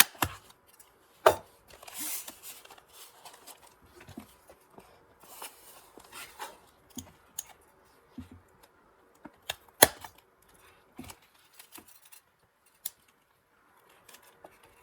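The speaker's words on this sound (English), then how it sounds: "See if I remember how to work my hole punch." A hole punch works through a paper envelope, giving scattered sharp clicks and crunches with paper rustling and handling noise in between, close and quiet.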